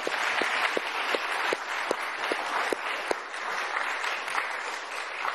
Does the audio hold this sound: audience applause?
yes